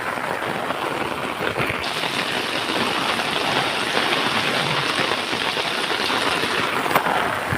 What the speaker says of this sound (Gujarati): ખૂબ વરસાદ હો ભાઈ, જુઓ પાછો શરૂ થયો છે.